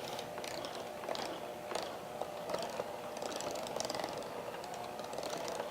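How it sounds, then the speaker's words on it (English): An electric hand mixer runs steadily, a faint mechanical whir with light ticking and rattling, heard alone at a low level. "so the hand mixer works for me"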